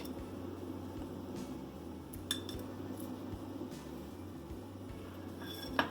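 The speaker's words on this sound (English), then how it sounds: "The next thing I like to add is some whole cloves" Whole cloves go into a container while pumpkin spice non-dairy coffee creamer is being made: a few faint, scattered light clicks and clinks against a quiet room background.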